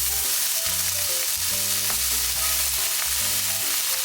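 Paprika, garlic and tomato stir-fry for a seafood paella, giving a loud, constant sizzle over soft background music, with no speech.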